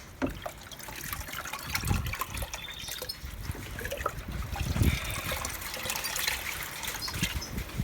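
Water trickles and pours continuously as a fermented banana-peel water for strawberry plants is prepared, a close, steady liquid splashing with a few heavier gurgles.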